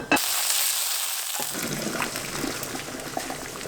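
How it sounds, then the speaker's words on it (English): A chunk of solid fat melts in a hot pan inside a UK camper van, giving a steady close hiss and sizzle with small pops and crackles that builds in the first second and then holds evenly. "you put a chunk in the pan and then it will melt"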